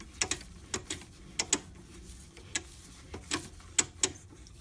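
A homemade 14 mm double start tap and die cuts a thread in a sliding die holder, giving irregular sharp metallic clicks and ticks in loose clusters, close and fairly faint.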